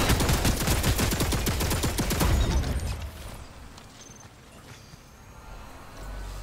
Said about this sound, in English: there's a suitcase turret, shit.